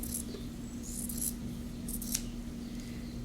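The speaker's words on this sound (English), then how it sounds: "Cut back your seam allowance." Scissors snipping back the fabric seam allowance around inserted piping on a country-style blouse, a few short crisp cuts over a steady low hum.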